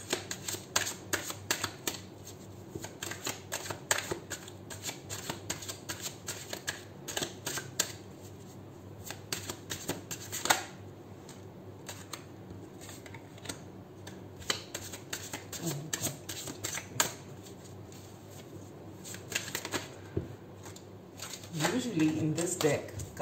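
A deck of tarot cards being shuffled by hand, repeated crisp riffling and flicking bursts through the whole stretch, close up, with a person talking over parts of it.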